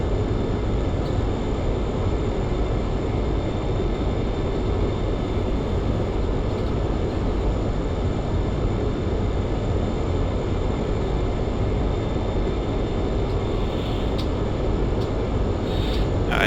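Steady, loud roar of a MiG-21bis jet engine with the afterburner cut, as heard in the DCS flight simulator, continuous and unbroken throughout with no talk.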